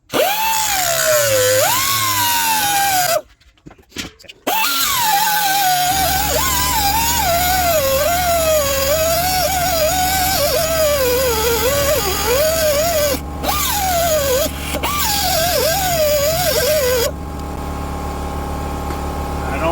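A power tool, likely a cutting wheel, grinds through a Toyota Tercel wagon 4WD rear axle bearing with a loud, steady whine that shifts in pitch as it bites, pausing briefly once before resuming, then running down to a lower hum.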